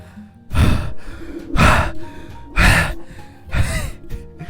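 A person at high altitude breathes heavily in four loud, evenly spaced gasping breaths, each a strong rushing exhale separated by brief quiet pauses, close to the microphone.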